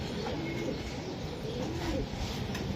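Racing pigeons from a club loft coo in a low, steady murmur, several birds overlapping continuously at close range with no clear breaks.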